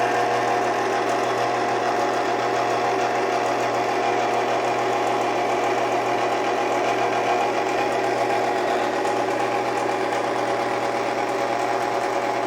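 A hand-cranked or motorised pasta machine rolls folded fettuccine dough, giving a steady, continuous mechanical whirring hum that runs unbroken and fairly loud throughout, with no voices.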